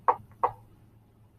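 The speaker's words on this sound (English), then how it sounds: "heard a quiet little knock at the front door" Two soft knocks at a front door, evenly spaced and close, with a third starting just as the sound ends, over a faint low hum.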